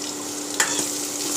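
Onion gravy sizzling in a pan for masala bhindi, a loud, steady frying hiss with a single stir scraping through it and no voices.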